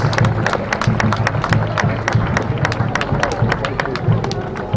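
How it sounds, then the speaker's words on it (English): Steady outdoor applause and scattered claps from a crowd cheering the Darby Hyundai Hope on Rails float at the Battle of Plattsburgh parade, continuous and fairly close, with voices murmuring underneath. "Let's have a big round of applause for Darby Hyundai's Hope on Rails"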